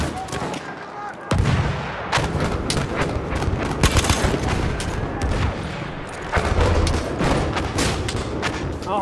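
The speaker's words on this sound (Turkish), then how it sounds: "Bomba atıyorum." Battlefield 1 Conquest battle at Fortress with a grenade blast amid continuous gunfire and artillery booms, loud dense explosions and shots throughout, one heavy thump marking the grenade.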